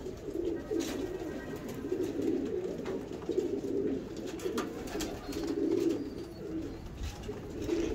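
Pigeons, including a golden hen pigeon, coo repeatedly and softly in a low, steady murmur, with a faint hiss of outdoor background noise throughout.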